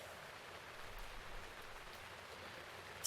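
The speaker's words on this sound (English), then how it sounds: "It is raining right now." Steady rain in The Legend of Zelda: Breath of the Wild, a soft, even wash of falling drops held at a low, constant level throughout, with a faint click near the end.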